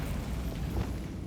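Bombarda explosion spell cast in Hogwarts Legacy: a short, rumbling blast with a broad low boom that fades quickly, heard alone.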